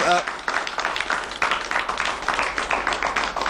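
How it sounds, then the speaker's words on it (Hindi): Dense, steady applause from an audience at an abacus demonstration in Delhi fills the whole stretch, a thick wash of many hands clapping at close range. "वाकई बहुत जोरदार तालियां होनी चाहिए"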